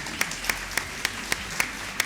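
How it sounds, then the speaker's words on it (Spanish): A studio audience claps at a Colombian radio anniversary broadcast. Seven separate, evenly spaced claps ring out over a quiet background, sounding sparse rather than like a full crowd. "a quien les damos la bienvenida a nuestra cabina central, con el aplauso, por supuesto, del público presente"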